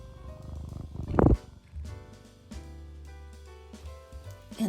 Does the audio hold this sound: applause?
no